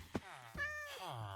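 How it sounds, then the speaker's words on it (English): A black cat in a video game lets out one drawn-out, rising-and-falling meow, preceded by a couple of faint clicks. "The black cat."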